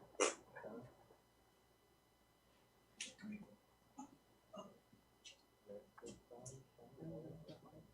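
Small schnauzer dog making soft whimpers and short yips in a quiet indoor room, faint intermittent cries scattered through the clip alongside low speech.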